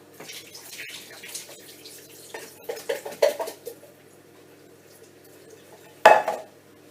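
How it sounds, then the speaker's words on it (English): Water from canned jackfruit drains and splashes into a kitchen sink in uneven trickles and gurgles, close by, ending with a sharp clatter of the can or pan against metal. "So drain them off because you don't want the water."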